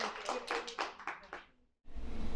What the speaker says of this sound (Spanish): un fuerte aplauso para Lilia, por favor.